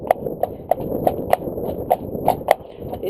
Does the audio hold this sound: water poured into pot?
no